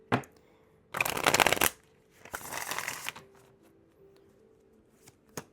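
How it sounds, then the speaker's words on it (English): A deck of tarot cards is riffle-shuffled in two crisp bursts, each a fast flurry of card flicks, followed by softer sliding and a few light taps, close up and quiet between bursts. "One more shuffle."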